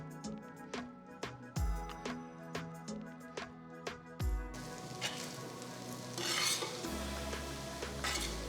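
Cooked basmati rice is stirred with masala for egg tawa pulao on a flat iron tawa. A metal spatula scrapes and taps in a steady rhythm against a soft sizzle that swells toward the end.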